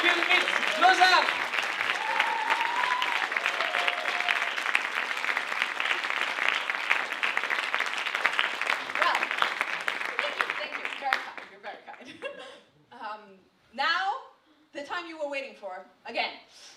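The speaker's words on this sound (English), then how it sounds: "Applaudissements pour les organisateurs du SciFilmIt Lausanne!" Applause from a live cinema show audience at a Lausanne science film hackathon, dense and sustained for about eleven seconds before fading, followed by a speaker talking over scattered claps.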